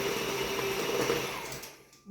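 An electric mixer whirs loudly as it whips cream cheese frosting for a fresh carrot cake, a steady close motor drone that winds down and cuts out near the end.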